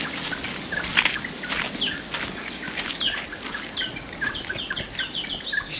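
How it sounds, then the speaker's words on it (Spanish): Birds singing and chirping along a path through scrub in southwest Australia, with scattered bright calls from several birds at middle distance over a soft rustling background. "Está lleno de pájaros, pero no veo ninguno."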